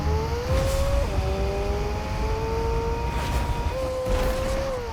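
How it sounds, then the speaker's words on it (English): A car driven in the video game Fortnite hums along steadily, its engine pitch rising and shifting as it gears up, with a continuous game-world rumble underneath and no talking. "So we're gonna grab a car and start heading to the islands."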